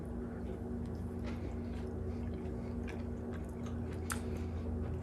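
Soft, close chewing of a slice of lemon poppy seed loaf, quiet moist mastication with occasional small crunchy clicks, steady and continuous with no talking.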